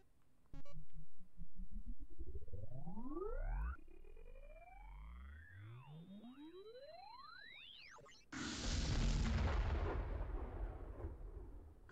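Sci-fi laser weapon in the game Elevator... To The Moon! fires in rising and falling electronic sweeps that loop and overlap, then a loud, rumbling explosion bursts in and keeps roaring to the end.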